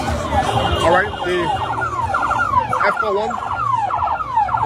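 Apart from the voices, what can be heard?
police siren wailing outside a stadium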